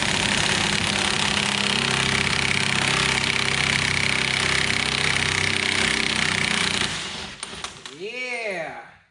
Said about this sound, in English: Next step is I'm gonna shoot the axle nut off.